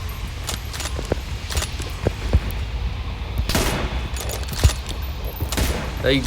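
Rapid gunfire bursts from the mobile shooter game BGMI during a one-versus-two fight, crackling volleys spread across the clip at moderate distance, steady and loud under a constant game background.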